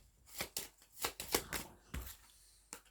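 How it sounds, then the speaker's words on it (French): Tarot cards are drawn and shuffled in a quiet room, with a series of soft, quick riffling swishes and card slaps, about eight distinct bursts at close range with no talk. "je vais tirer 3 autres cartes pour savoir après ce break"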